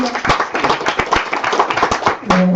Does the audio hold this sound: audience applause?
yes